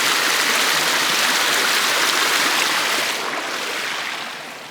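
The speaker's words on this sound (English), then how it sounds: "The waterfall." Waterfall on Wheeler Creek along a forest hiking trail: a steady, loud, broadband rushing roar of falling water that eases slightly toward the end, with no voices.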